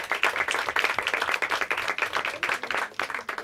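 Audience members at a Hindi quiz show round give a contestant a hearty round of applause: brisk, crowded clapping with sharp individual claps standing out, sustained throughout at moderate loudness without speech.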